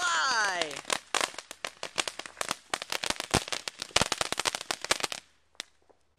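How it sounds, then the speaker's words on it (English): Rapid bursts of Fourth of July firework crackles and bangs, dense and continuous for about five seconds, then a single late pop; a whistling rise opens the sequence. "First firework of 4th of July."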